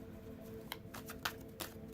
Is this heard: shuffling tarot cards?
yes